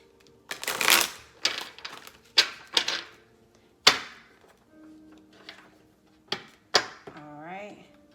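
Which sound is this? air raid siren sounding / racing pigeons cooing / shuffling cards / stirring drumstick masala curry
shuffling cards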